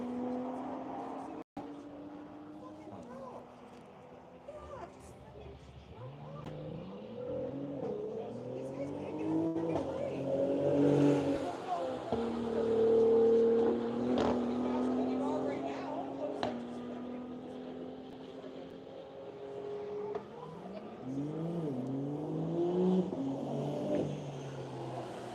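A race car pulls away to begin its laps at a One Lap of America event, the engine rising and falling through gear changes at moderate distance while a commentator talks over it.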